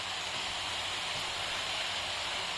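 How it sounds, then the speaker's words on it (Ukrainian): A water misting system sprays inside a pig fattening barn, giving a steady, even hiss like indoor rain that fills the space without pause and has no voices over it. "Зараз тут працює розмочування. Як ви бачите, йде дощ в приміщенні."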